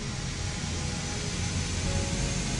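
Jet airliner engines run steadily in Microsoft Flight Simulator, a constant broadband roar with a faint high whine that holds at one level throughout, with no voices.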